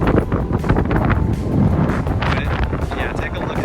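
Strong tropical storm wind blasts across the Seawolf Park pier in Galveston, Texas, roaring loudly and steadily into the microphone as a constant buffeting rumble.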